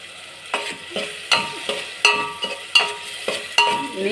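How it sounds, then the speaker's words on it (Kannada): Ground masala fries in a hot tempering as a spoon scrapes the pan in repeated, evenly spaced strokes over a soft sizzle. The sound is close and clear, with no voices. "ನೀಟಾಗಿ ಇದು ಒಗ್ಗರಣೆಯಲ್ಲಿ ಸ್ವಲ್ಪನೇ ಫ್ರೈ ಮಾಡ್ಕೊಳ್ಳೋಣ"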